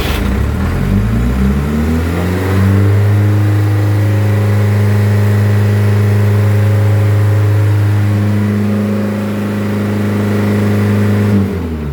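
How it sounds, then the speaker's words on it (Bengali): Diesel fire pump engine started manually, cranking briefly before catching and settling into a loud, steady, close-up idle drone that holds for the rest of the time. "এখানে পুশ করবো ডিজেল চালু"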